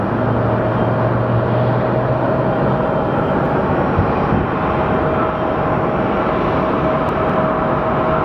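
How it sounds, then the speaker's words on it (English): An American Airlines passenger jet at Phoenix Sky Harbor Airport gives a steady, loud, broadband roar with a constant whine above it, sustained throughout with no talking. "And the plane we are looking at is American 1310 going to Cleveland."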